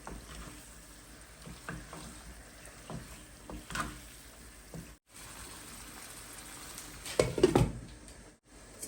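Chicken goes into a spice masala already fried down in a pan, a quiet low sizzle with brief stirring clatters and a louder burst of sizzling and scraping near the end.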